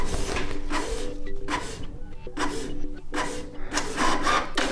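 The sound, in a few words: Canon Pixma TS 3350 inkjet printer printing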